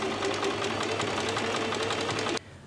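A sewing machine runs steadily, sewing decorative stitches along the centre seam of a cotton summer dress yoke: a continuous close, fast motor hum with rhythmic needle ticking that stops abruptly near the end.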